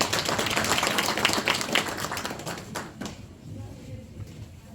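An audience at a redevelopment briefing applauds to welcome a speaker, a dense burst of clapping that fades out after about three seconds, followed by quiet room noise.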